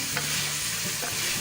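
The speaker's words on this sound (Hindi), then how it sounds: "गोश्त को हम तकरीबन 10 मिनट तक भून लेंगे" Mutton frying and being stirred in a pot over high heat, a steady close sizzle with scraping stir strokes, no voices.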